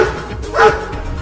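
Cartoon dogs bark in a short burst, loud and close, with a brief yelping peak in the middle over a dense background.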